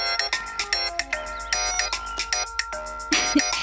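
A phone ringtone plays a bright, repeating electronic melody, loud and close, with no voices.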